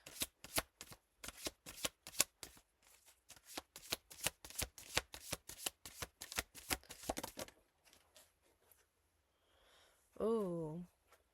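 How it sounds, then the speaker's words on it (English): A deck of oracle cards is shuffled by hand in a fast run of crisp riffling snaps, close and fairly quiet, ending after several seconds with a brief breath or sigh. "I'm gonna pull a couple of oracle cards from this dream interpretation deck that I recently got"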